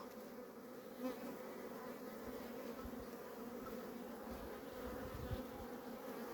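Honeybees from a weak, varroa-damaged hive buzz in a dense, steady hum while the hive is opened for inspection, close and continuous throughout.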